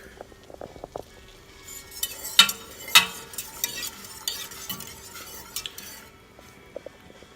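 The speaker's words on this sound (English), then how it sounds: "I'm going to give this a little stir" Utensils scrape and clink against a pot as cream and turkey broth are stirred, with a couple of sharper knocks partway through, fairly quiet with no voices.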